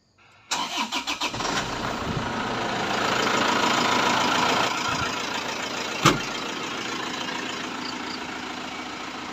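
Isuzu Travis engine starting and idling while warming up, a few cranking pulses then catching into a steady, close, loud idle with a single sharp knock partway through, no talking.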